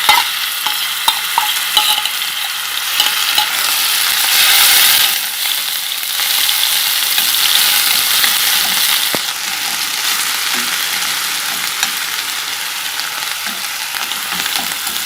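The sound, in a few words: onions frying in hot oil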